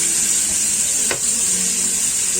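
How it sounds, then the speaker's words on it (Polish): A frozen block of spinach sizzles in a pan with fried onion, a steady bright crackling hiss throughout, close and loud, with a brief soft clink or stir partway through. "I w tej chwili dodajemy naszą bryłę szpinaku. Ona jest bardzo, pamiętajcie, zamrożona."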